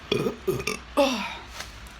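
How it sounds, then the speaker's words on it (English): Three loud, close burps in a row from a man, the last one longer and drawn out, with short pauses between them and no talking. "she says thank you every time I burp"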